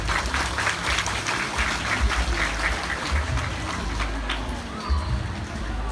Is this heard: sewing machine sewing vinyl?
no